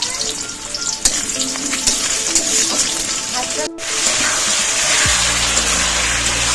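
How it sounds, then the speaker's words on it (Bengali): Chicken pieces for Bengali chicken kosha fry and get stirred in a pan, a steady loud sizzle with spatula scrapes and clinks. There is a brief dropout partway through, then a low hum joins the sizzle near the end. "চিকেনটা কষিয়ে নেবো না কষাচ্ছি এখন চিকেনটা"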